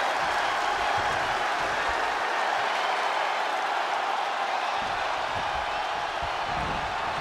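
A capacity arena crowd roars and applauds without pause in WWE 2K20 during a steel cage match, a dense, steady wall of cheering and clapping at constant loudness, with faint commentary voices underneath.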